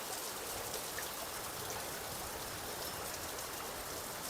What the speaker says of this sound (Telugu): వర్షం అయితే ఫుల్గా అయితే పడుతుంది అన్నమాట.